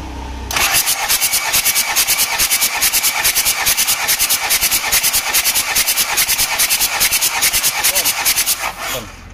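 An Isuzu Panther 2.3 diesel engine cranks on its starter during a compression test on cylinder one, with a loud, rapid, even rhythm of compression pulses whirring for about eight seconds before the starter cuts off.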